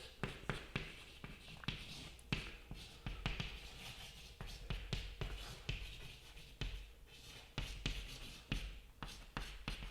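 Pen or pencil writing on paper, a rapid series of close scratching strokes and taps going on throughout, fairly quiet, with no voices.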